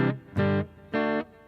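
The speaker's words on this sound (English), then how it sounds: "I've already got delay and reverb going on the guitar as it is" An electric guitar run through delay and reverb effects plays three sustained notes, each ringing loudly with bright harmonics and cutting off in a steady rhythm.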